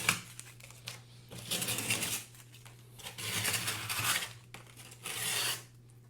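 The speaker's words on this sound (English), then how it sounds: "So we rip this off." Paper is torn and peeled off carved foam for a large Halloween sign, producing several close bursts of rough ripping and scraping separated by short pauses.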